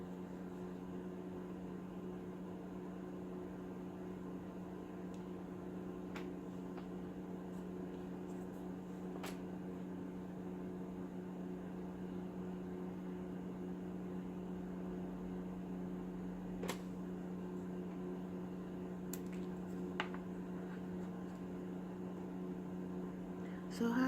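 A steady, low electric hum from a small space heater with a constant whir runs throughout, fairly faint and unchanging, with a few small clicks in the background.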